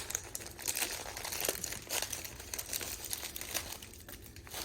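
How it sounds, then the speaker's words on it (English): Continuous crinkling and crunching of plastic as something inside a bag is pressed and crushed, steady and close throughout. "they can use the bag itself as a container to crush it"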